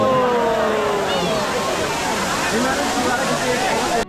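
The Bhivpuri waterfall near Karjat roars as a dense, steady rush of falling water, loud and close for the whole stretch before cutting off abruptly.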